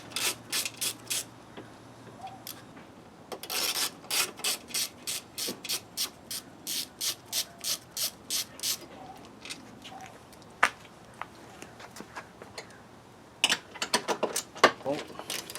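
A ratchet loosens a bolt on a Volvo S60 T5 radiator mount, giving rapid repeated clicking strokes in regular bursts, close and clear, with quieter pauses and a few knocks between.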